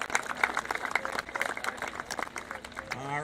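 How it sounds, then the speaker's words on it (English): An audience at the 2022 Mountain East Conference cross country championships applauds the meet officials and timing company with steady, dense clapping, and a voice begins speaking as it fades at the end. "Let's have a round of applause for them."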